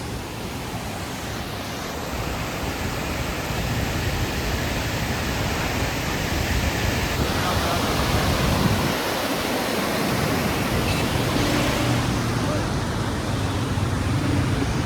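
Muddy flood water of the Jhelum river rushes in a steady, loud, broadband roar that continues unbroken for the whole stretch, with no clear voices above it.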